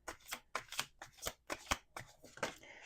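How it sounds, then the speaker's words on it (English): Tarot cards are shuffled in a quick series of crisp riffling bursts, about seven in a row with short gaps between. "Let's do 2 more shuffles."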